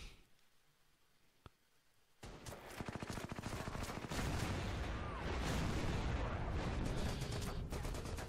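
Naval gunfire aimed at a destroyer in a video game set at Tarawa: after a quiet start with one sharp tick, a dense, continuous roar of rapid shots and blasts sets in and keeps building, loud and unbroken to the end.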